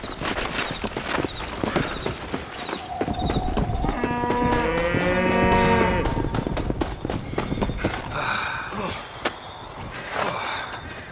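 Cattle lowing in Red Dead Redemption, a few drawn-out moos rising midway over a busy game scene with hoofbeats, horse noises and speech-like voices around them.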